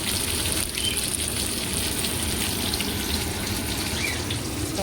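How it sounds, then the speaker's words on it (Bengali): Shol (snakehead) fish frying in a pan, a steady close sizzle and bubbling hiss that holds evenly throughout with no talk. "এবার শোল মাছগুলো ভেজে নেব"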